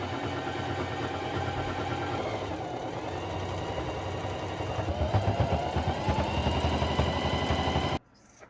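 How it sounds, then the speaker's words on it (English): A sewing machine runs a straight stitch along a pant hem, a fast steady mechanical chatter close by that builds slightly louder before stopping abruptly near the end, with no speech. "then sew all the way through with a straight stitch"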